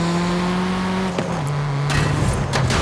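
Turbocharged MG3 hatchback with handling upgrades in Forza Horizon 5, its engine droning steadily then shifting pitch as it revs and changes gear, with brief tire noise.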